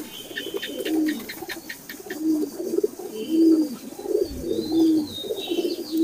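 Local deshi pigeons in a loft coo over and over in soft, rolling phrases, with a few brief higher chirps early on, close by and steady throughout.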